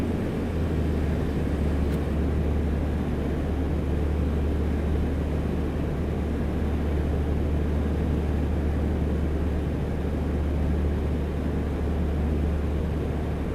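A simulated A2A Comanche piston plane on landing approach in Microsoft Flight Simulator 2024, gear down and full flaps, giving a loud, steady engine drone with a strong low hum that holds unchanged throughout.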